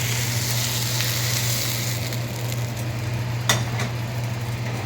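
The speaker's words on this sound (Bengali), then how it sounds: "এইটা দিয়ে একটু নেড়ে নিতে হবে এটা একটু ভাজা ভাজা হয়ে গেছে" Mushrooms frying in a korai, a loud steady sizzle with occasional utensil clinks from stirring, including a sharper knock near the end, over a low hum.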